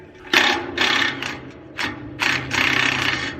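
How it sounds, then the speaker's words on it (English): Metal scraping and clicking as a screwdriver pries at a bent spring clip, coming in several separate bursts of close, bright rasping with short pauses between them. "I might be able to kind of bring it back with the screwdriver"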